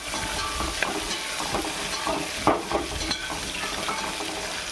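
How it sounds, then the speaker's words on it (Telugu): Onion and green chili pieces frying in a pan for upma, with a steady close sizzle and a few sharp clicks and scrapes of stirring. "ఉల్లిపాయ ముక్కలు, పచ్చిమిరపకాయ ముక్కలు అవి కూడా మంచిగా ఫ్రై చేసుకుందాం"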